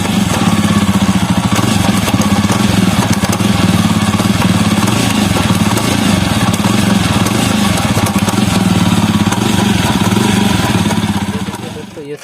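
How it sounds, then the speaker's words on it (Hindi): A Jawa Perak motorcycle with loose nuts at the chain sprocket runs in gear, its engine holding a loud, steady, close chugging drone with a rapid repetitive knocking beneath it, continuous until it eases off at the very end. "गियर देने के बाद खट खट खट खट साउंड आ रहा है।"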